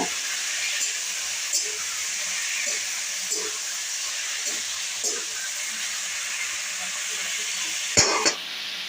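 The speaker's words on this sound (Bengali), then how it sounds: "ট্যাংরা মাছের ঝাল একটু নাড়িয়ে নেব" Spicy tangra fish curry with raw tomato and potatoes sizzles with a steady hiss in a hot pan, broken by soft stirring taps and a louder utensil clatter near the end.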